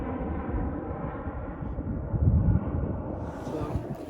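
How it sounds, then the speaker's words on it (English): Airplanes flying overhead toward McCarran International Airport near Henderson, a low steady roar that rises slightly and fades, heard outdoors on a hiking trail with wind. "I'm assuming these airplanes are flying into McCarran International Airport"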